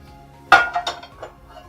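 A cooking pan set down with a sharp metallic clink, followed by a couple of lighter rattles as it is handled in a home kitchen, close and brief.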